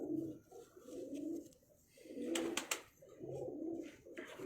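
Pigeons of the prized Mian Sahib breed coo from close by in repeated low, throaty phrases, several rounds in a row with brief pauses and a few soft flutters in the middle.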